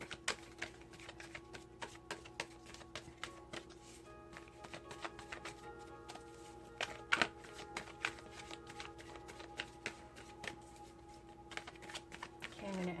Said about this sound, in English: Okay, I'm going to end the shuffle.